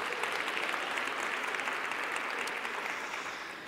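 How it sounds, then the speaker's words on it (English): At the Standard Bank Top Women Conference 2023, a large audience gives a dense, even round of applause at moderate volume that tapers off slightly toward the end. "another round of applause"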